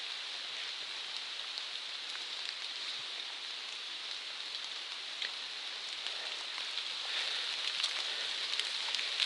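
Steady drizzling rain on the Appalachian Trail on a cloudy day hisses evenly and softly, a continuous fine patter with no voices.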